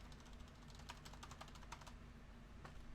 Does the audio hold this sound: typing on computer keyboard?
yes